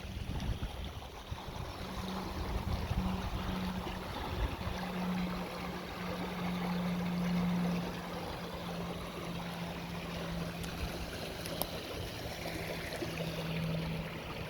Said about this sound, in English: So this is the brook